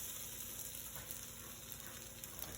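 French toast frying on a hot griddle, a steady close crackling sizzle running evenly throughout with no voices.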